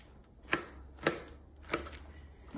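Knife chopping through peeled, fire-roasted brinjal on a board: three distinct sharp cuts spaced roughly half a second apart, close and clear with no talk, being prepared for a no-oil raw-onion bharit.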